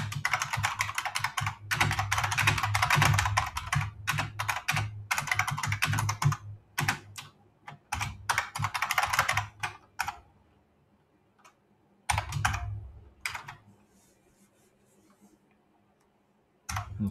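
Rapid close-up typing on a computer keyboard with the backspace key pressed, dense bursts of clattering keystrokes broken by short pauses, then sparser taps and quiet gaps toward the end.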